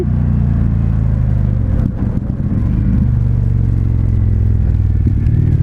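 Indian FTR 1200 S motorcycle fitted with a de-baffled Akrapovic exhaust, a loud close deep rumbling idle with a brief blip around the middle, steady throughout and alone without talk.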